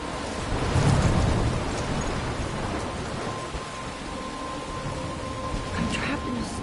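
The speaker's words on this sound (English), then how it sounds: "I'm trapped in a storm?" Thunderstorm in the video game Life is Strange: steady, dense rain hiss with a deep rolling rumble of thunder swelling early, then continuous downpour, loud and enveloping.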